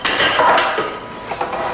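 Dishes clinking and breaking in a short, busy burst of glassy crashes and chinks, loud and close with no voices over it.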